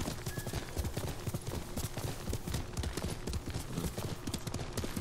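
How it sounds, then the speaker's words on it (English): Horse hooves gallop in Ghost of Tsushima, a fast steady clip-clop rhythm running throughout, fairly faint over a soft background, with no talk. "The horse is like kicking his feet."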